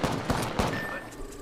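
Rapid gunfire in Apex Legends, a short volley of close, punchy shots in an uneven burst, followed by fading echoes and ringing.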